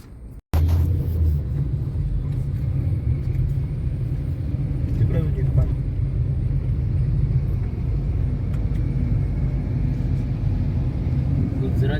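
Cars idle in a traffic jam near the end of Ghodbunder Road, a steady low engine rumble heard from inside a vehicle, continuous and fairly loud after a brief quiet start.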